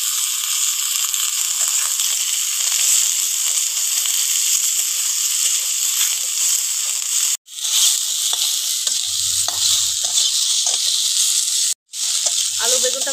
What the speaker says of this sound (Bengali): এবারে কেটে রাখা আলু আর বেগুনটা দিয়ে দেবো।